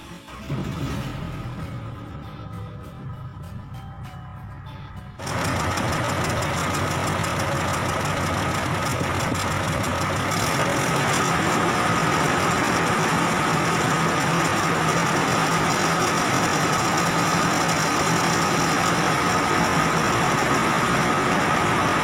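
Car engine started during a cooling system check, quiet rattling at first, then the engine catching and settling into a steady loud idle that runs on unchanged, with no one speaking.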